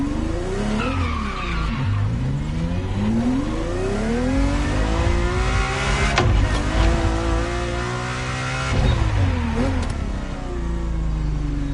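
Ferrari GTO engine in The Crew Motorfest, loud and close, rising and falling through gear changes with repeated revving sweeps and some tire squeal, with no voice over it.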